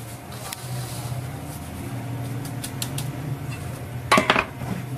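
Ingredients being mixed together in a bowl produce a soft scraping over a low hum, broken by a few sharp clinks of utensil against the dish near the end.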